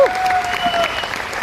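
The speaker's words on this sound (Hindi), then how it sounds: "एक बार जोरदार तालियां इनके लिए हो सकती हैं" An audience at a Vestige award function on stage in Pune applauds loudly. The clapping is dense and continuous through the short moment, with a voice over the crowd.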